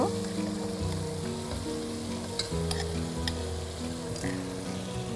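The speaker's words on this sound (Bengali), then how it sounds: "আমি এখন এর মধ্যে প্রথমে দিয়ে দিচ্ছি টক দই মাখানো মাংস" Yogurt-marinated mutton goes into well-fried spices, setting off a steady, close sizzle with a few sharp crackles, heard under continuous background music.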